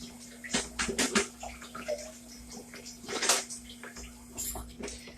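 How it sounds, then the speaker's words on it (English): Carrots and potatoes are rinsed under running water, with splashing, trickling and soft knocks of vegetables at close range; no one speaks. "Now, I don't peel my carrots and potatoes. I'll just rinse them off."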